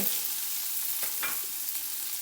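Steady hiss and crackle of spices and curry leaves tempering in hot oil for Nellore pappulusu, a constant frying sound with a few soft clinks, no voices.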